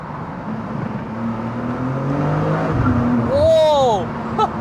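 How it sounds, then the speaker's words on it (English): Engine of a 2023 BMW M2 G87 Competition driving through a tunnel, a steady loud drone with rising revs near the end and a brief sharp burst, heard from inside the cabin with a voice briefly exclaiming. "let's listen to the M2 how it sounds"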